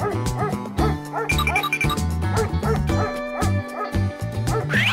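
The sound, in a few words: dog barking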